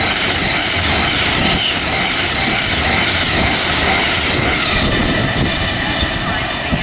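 A Virgin Trains service from Manchester Piccadilly to London Euston rushes through Watford Junction on the West Coast Main Line, a loud, continuous roar of wheels and rolling stock with a faint voice underneath.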